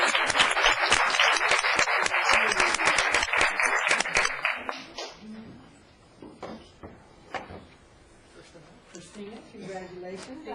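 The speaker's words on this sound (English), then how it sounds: "Give them a round of applause." Applause at a city council meeting, a dense burst of clapping from the audience for about five seconds that then thins out into scattered claps and murmuring voices.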